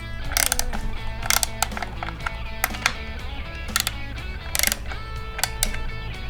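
Adjusting the chain tension on a Stihl 500i chainsaw gives off sharp mechanical clicks and ratcheting, irregular bursts of close metallic ticks over a low steady hum, with no talking.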